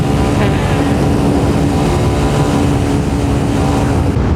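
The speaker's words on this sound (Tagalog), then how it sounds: "Lalakas pa ng mga tambutso nila." Several motorcycles with loud aftermarket exhausts rumble past in a group ride among Pangasinan motovloggers, a dense continuous roar of engine noise throughout.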